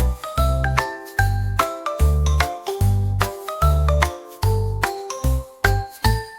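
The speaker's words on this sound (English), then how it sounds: "making bells ring" Bright chiming bells ring in a lively repeating rhythm over a bouncy children's nursery-rhyme tune, loud and clear with regular strikes.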